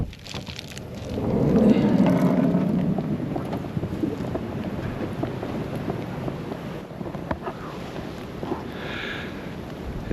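Strong wind gusts buffet the microphone at a snowy winter van camp during a storm, a steady roaring rush that swells loudest early on and then holds at a rough, continuous level.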